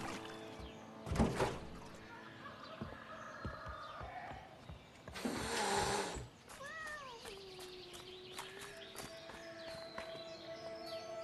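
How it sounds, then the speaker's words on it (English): A cat in the video game A Way Out meows several times, a drawn-out wavering call standing out near the end amid scattered footsteps and thuds, with no talking. "Stupid cat!"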